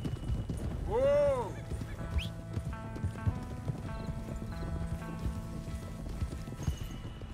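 Galloping horses in Red Dead Redemption 2 keep up steady, close hoofbeats, and a sharp whinny rises early on, all under game music.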